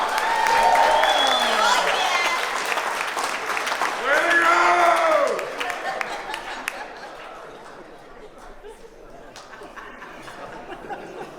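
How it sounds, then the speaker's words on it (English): Wedding guests give a round of applause for the couple, a loud burst of clapping with cheers and laughter that swells, then fades after about five seconds into scattered claps and murmuring chatter. "Let's give them all a round of applause"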